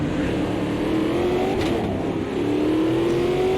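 Stock car engine in the racing game Automobilista 2, a steady loud droning roar whose pitch slowly climbs, dips briefly and climbs again as the car revs and pulls along the track.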